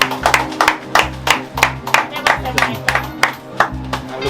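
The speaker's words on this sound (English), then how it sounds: "let's give them a round of applause to the Gale family" A small group claps in honour of the Gale family, distinct close individual hand claps in a loose steady rhythm over a low background hum, without talk.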